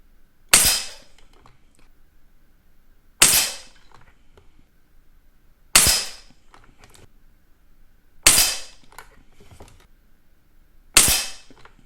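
Five sharp air rifle shots from an APX NXG firing H&N Finale Match pellets at 10 metres ring out at roughly even intervals, each a crisp crack with a short decay, separated by near silence.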